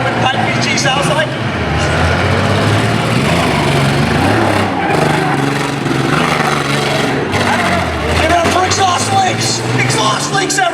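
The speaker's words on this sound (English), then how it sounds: "Is that what an open pipe PG sounds like?" An open-pipe PG car with its exhaust missing revs loudly and close by, the engine roar rising and falling over about ten seconds amid crowd noise and voices.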